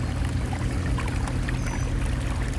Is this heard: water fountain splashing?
yes